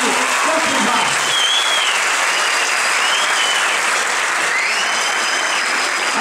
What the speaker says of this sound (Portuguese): uma salva de palmas para aquela grande defesa do